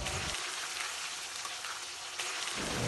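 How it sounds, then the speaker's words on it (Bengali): Potatoes tinted with zarda colouring fry in hot oil spiced with cinnamon, cardamom and shahi jeera for mutton kacchi biryani, giving a steady, close, dense sizzle that holds evenly throughout. "আলুর মধ্যে জর্দার কালারটা দিয়ে ভেজে নিতেছি।"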